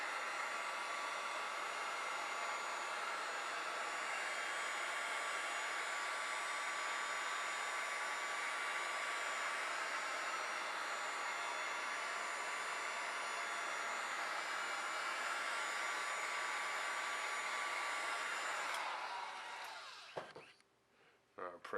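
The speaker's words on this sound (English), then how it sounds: "I'm gonna take the heat gun, once I got everything pushed down in there, take the heat gun to heat it up." Heat gun blowing hot air over fabric being molded onto Air Force 1 sneakers, a loud steady hiss that runs unbroken, then cuts off near the end with some handling noise.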